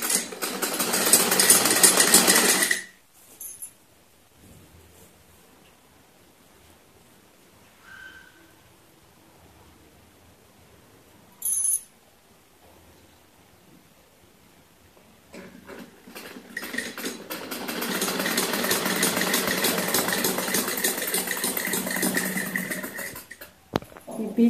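Sewing machine stitching the back seam of a semi-Patiala salwar: a short whirring burst, a long quiet pause with a brief blip, then a sustained run of steady mechanical hum lasting several seconds.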